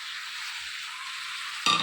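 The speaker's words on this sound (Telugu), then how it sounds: "ఇందులోనే కట్ చేసి పక్కన పెట్టుకున్న టమాటా ముక్కలన్నీ కూడా వేసుకోవాలి" Chopped tomato pieces drop into a hot pan of frying curry base, a steady hiss of sizzling oil that swells into a louder burst of spattering near the end.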